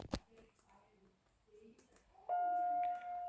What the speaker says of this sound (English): Hey, that's a better chime.